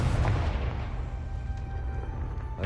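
A Confringo blasting spell explodes in a video game, a loud booming burst up front that rolls into a long, rumbling decay with no talk over it.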